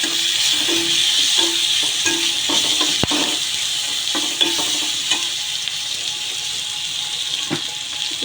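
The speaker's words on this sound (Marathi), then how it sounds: "कांदा पण आपला थोडासा फ्राय झालाच पाहिजे" Onion and chopped green chilli frying in a pan for a potato bhaji, a continuous loud sizzle with repeated rhythmic scraping and stirring strokes and a sharp knock partway through.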